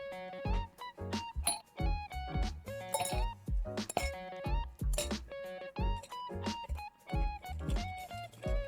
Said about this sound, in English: start by adding ice to chill your glass.